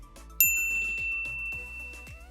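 A single bright notification bell ding rings out and fades slowly over soft background music with a steady, rhythmic low thump.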